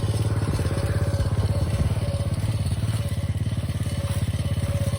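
A 125cc dirt bike engine idles steadily with a rapid, even thumping pulse as the clutch is let out, close and continuous with no talk over it.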